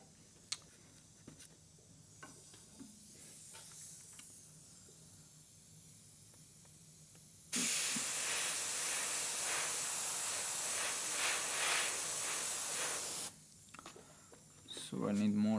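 Airbrush spraying paint through a stencil onto a helmet, a steady loud hiss lasting several seconds between quieter stretches of faint clicks and handling, with a person talking.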